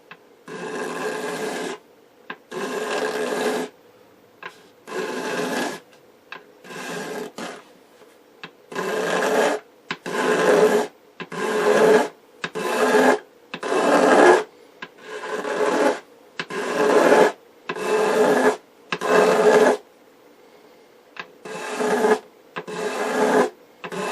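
Repeated rasping scrape strokes removing old lacquer from an RCA Radiola 60 wooden radio cabinet, about fifteen long passes in a steady rhythm with short pauses between, close and fairly loud.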